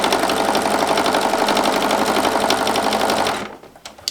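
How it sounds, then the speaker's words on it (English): Sewing machine stitching through a quilt, a steady fast needle clatter running close and loud for about three seconds before stopping abruptly, leaving a few faint handling taps. "you just continue to sew"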